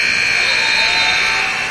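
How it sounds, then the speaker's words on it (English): A stuck buzzer at a high school girls basketball game blares as one loud, steady electronic tone held without a break for the whole moment. "the buzzers got stuck"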